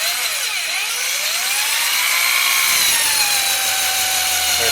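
A drill spins an engine oil pump on a 1970 Corvette through a homemade priming tool cut from a cracked intake, a loud steady whine that rises and falls slightly in pitch without pause.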